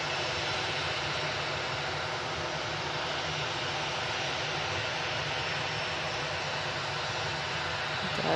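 A Sky Up Boeing 737 airliner at Manchester Airport gives a steady broadband engine roar, constant and moderately loud throughout, with no talk.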